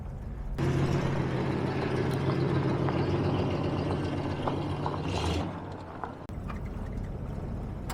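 A barn-find 1970 Oldsmobile runs smoothly while driving, its engine giving a close, steady low drone for several seconds before the sound drops and changes near the end, with no voices.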